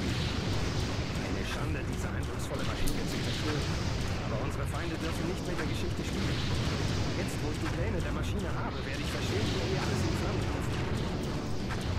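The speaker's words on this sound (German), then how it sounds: "weil die hier einfach weiterballern" Constant loud gunfire and explosions from a futuristic battle in the strategy game Empire Earth, dense and unbroken for the whole stretch, with talk running over it.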